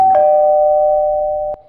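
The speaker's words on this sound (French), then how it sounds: "La sonnette fait sursauter les enfants." A doorbell rings once with a clear, sustained ding that hangs and slowly fades before a second, sharper strike at the end, loud and close with no talking.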